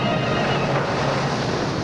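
Sea waves sound effect staged during a children's church play, a steady broad wash of surf and wind-like noise, continuous and fairly loud with no voices.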